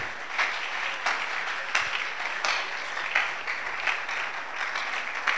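A church congregation claps and cheers for the Lord, sustained steady applause from a crowd with rhythmic swells, fairly loud and without talk over it.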